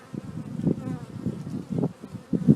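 Honeybees buzz around a beehive entrance, bees flying in at the top, a steady close droning hum with louder swells as individual bees pass near.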